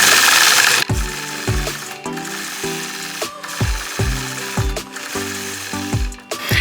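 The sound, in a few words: sewing machine stitching free-motion quilting curves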